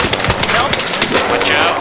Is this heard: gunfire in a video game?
yes